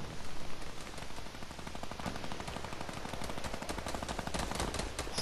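Rapid automatic gunfire in Fortnite, a fast continuous stream of shots that runs nearly the whole time at a moderate level.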